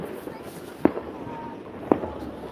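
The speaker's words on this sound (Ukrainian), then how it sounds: "Запускають таке, що є. Салюти." Fireworks set off outside on a snowy winter night crack twice, about a second apart, each a sharp distant pop over quiet outdoor ambience.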